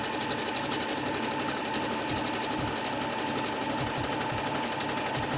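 A sewing machine drives a zigzag stitch down the edges of T-shirt pieces, giving a constant rapid mechanical whirring with a steady underlying needle pulse the whole time.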